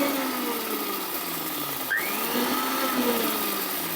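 A Bush electric blender grinds dry cumin seeds with a loud, steady motor whine whose pitch slides up and down as the spice churns, running close and alone without speech.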